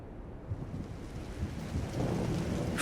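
Rain and rolling thunder in the game Trails in the Sky form a steady, broad wash that slowly swells louder over a few seconds, with no voices.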